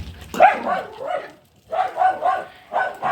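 A dog barks and yips in a few short bursts, close by, with brief pauses between them.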